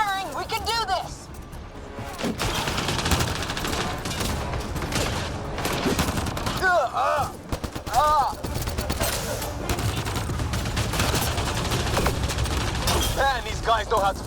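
Sustained gunfire rattles through a Mass Effect Andromeda combat scene, dense bursts and scattered shots layered under frequent shouted dialogue and effects.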